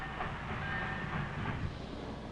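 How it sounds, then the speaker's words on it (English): Freight trains rumble through a busy rail yard, a continuous dense rolling roar with faint clanks, steady and moderately loud throughout. "Here are freight yards, where great trains come from all parts of the country with goods for the city"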